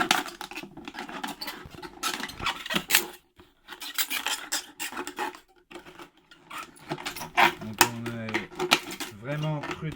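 A blade cuts through the bottom of a plastic bottle for a hornet trap, giving crinkly crackling and scraping in uneven bursts up close, with brief pauses and some faint creaking of the plastic.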